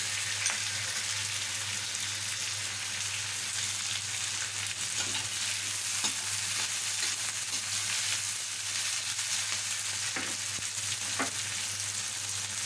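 Onions and beans frying together in a pan, a continuous even sizzle close by with occasional faint clinks of stirring, no voices.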